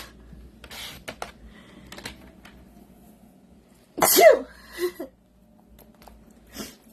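One sharp, sudden sneeze bursts out near the microphone, followed by a couple of softer breathy sounds amid quiet background noise.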